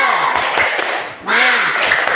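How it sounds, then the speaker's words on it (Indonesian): Schoolchildren in a classroom perform a rhythmic spirit clap, bursts of many hands in patterned beats with chanting voices mixed in, pausing briefly midway before resuming loudly. "Sekali lagi, tepuk semangat."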